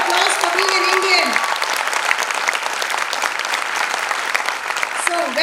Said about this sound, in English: Guys, huge round of applause for being an Indian.